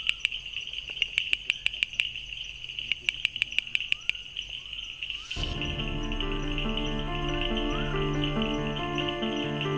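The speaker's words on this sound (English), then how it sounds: "That's one male bush frog displaying." A male bush frog in the Indian Western Ghats gives a run of sharp, evenly spaced clicking calls over a constant high insect drone, before a louder broadband wash of forest sound takes over for the rest.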